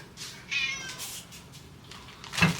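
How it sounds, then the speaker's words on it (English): A cat kept indoors during a heavy storm meows twice, a drawn-out call followed by a shorter one, close and clear against a quiet room. "The cats are inside today because it's storming so bad"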